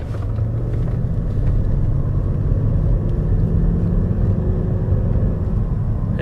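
2005 Mercedes S430 4Matic driving, a steady deep engine and road rumble heard from inside the cabin, with the pitch rising slightly as it pulls away.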